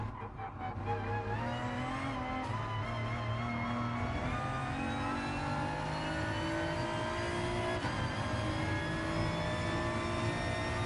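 A race car engine at Autodromo Lago Maggiore in Gran Turismo Sport, revving high with rising and falling pitch as it shifts and accelerates, steady and prominent throughout with no talking.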